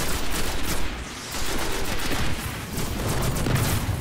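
Sustained automatic gunfire during a firefight in the video game Destiny, loud and dense bursts with a short lull near the middle, then continuing steadily to the end.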